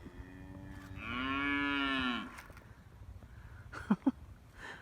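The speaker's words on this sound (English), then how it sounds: "Look at these cows." A cow lets out one long, loud, drawn-out moo at close range on a farm, followed by a couple of short scuffling thumps and quiet outdoor background.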